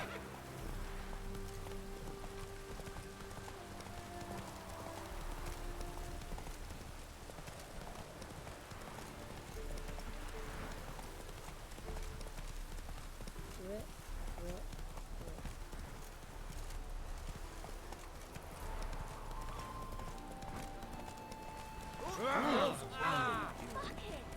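Hooves clip-clop in a quick galloping rhythm as a horse runs in The Witcher 3: Wild Hunt, steady and fairly faint under ambient game sound, with a brief louder burst of clatter near the end.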